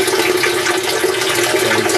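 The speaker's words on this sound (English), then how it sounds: "it pulled the flapper valve open on the drain. That then makes the water drain" Water gushes loudly down the drain of a small home aquaponics system as the flapper valve opens, a continuous rushing, flush-like torrent close by.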